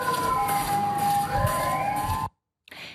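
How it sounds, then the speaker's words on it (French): An ambulance siren wails steadily and loudly as the vehicle arrives at a hospital, carrying suspected Covid-19 patients, then cuts off abruptly, leaving brief silence before faint background sound returns. "À notre sortie de l'hôpital, une ambulance arrive."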